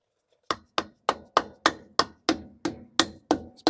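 About eleven sharp hammer blows in a steady, even rhythm during livestock trailer maintenance, close and distinct, each ringing briefly before the next strike.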